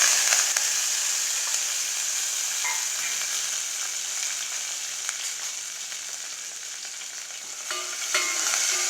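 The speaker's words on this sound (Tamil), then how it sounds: "நல்லா ஒரு 5 மினிட்ஸ் நல்லா வணக்கிக்கலாம்." Onion, tomato and curry leaves sauté in a pan with crushed ginger, garlic and cloves for an egg curry. The sizzle and crackle are steady and close, with occasional stirring scrapes.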